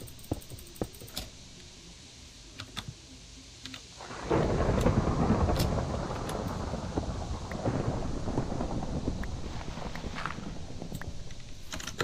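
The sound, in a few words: thunderstorm in Minecraft tornado mod video game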